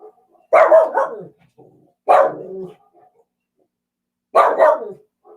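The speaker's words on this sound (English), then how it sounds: "it's Luna the dog downstairs that's barking" A dog barks three times, loud and close, with gaps of silence between the barks.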